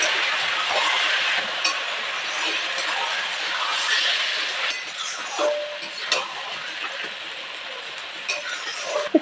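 Bottle gourd and fish heads being stirred in a pan, with a steady frying sizzle and scattered utensil clinks and scrapes throughout.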